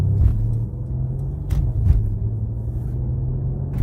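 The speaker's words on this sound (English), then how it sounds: "the sound it makes, you know, of all like going over the bumps" A Mercedes-AMG C63 sedan rolling over road bumps, heard from inside as a steady low engine and road rumble broken by a few dull thumps and jolts.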